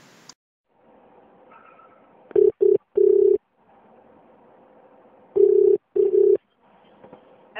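A telephone dials a number from a wheelchair pickup service call, with rapid keypad tone bursts in two clusters separated by quiet line hiss and faint background hum.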